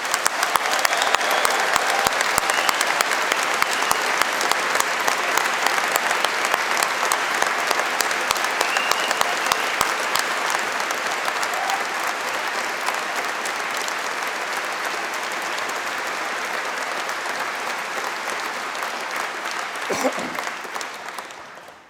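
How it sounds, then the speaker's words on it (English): Sustained applause from a large graduation audience honoring the 2019 engineering class at Strathclyde, dense clapping loud throughout and tapering slightly toward the end. "let's give the class of 2019 a big collective round of applause"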